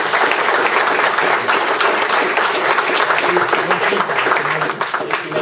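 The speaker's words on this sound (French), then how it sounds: "Applaudissements." Loud, close audience applause rolls on at a general assembly meeting, dense clapping from a crowd with a few voices mixed in.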